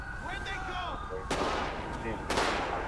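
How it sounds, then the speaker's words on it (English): Two sharp, loud gunshots in the GTA 5 video game, spaced about a second apart, cracking over voices and a low rumbling background. "Shots fired."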